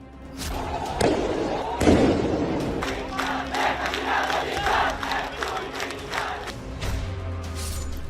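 Street protest in Bangladesh with a crowd shouting slogans amid gunfire: a dense roar of many voices with loud thuds and sharp bangs, swelling in waves and holding steady throughout.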